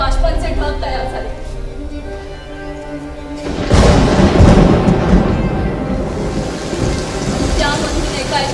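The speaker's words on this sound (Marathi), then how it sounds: "त्यामधून एकाएकी पाऊस पडू लागला." Rain and thunder sound effect during a stage science play, heavy rainfall hiss with a deep thunder rumble bursting in midway and rolling on, while a voice talks over the opening.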